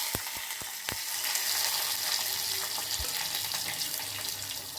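Carrot with green chilli dropped into hot oil tempered with cumin and mustard seeds, giving a steady sizzling hiss with a few sharp pops and clicks near the start; no talking.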